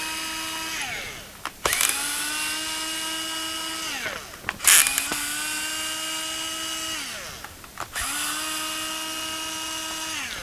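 A small motorized screwdriver unscrews the top of a central vacuum wall switch in three close bursts, each a whining tone that rises, holds, then winds down, separated by brief clicks and clatter.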